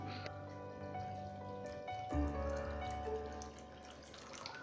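Water pours steadily into a clay dosa pan, the stream deepening to a fuller, lower gush partway through, close by with no talking.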